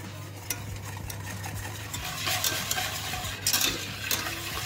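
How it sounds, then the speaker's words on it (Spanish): Five eggs being whisked in a bowl for a New York cheesecake, a quick rhythmic clatter of utensil against the bowl over a low steady hum, without talk. "Echamos los 5 huevos y esto lo vamos a batir un poquito"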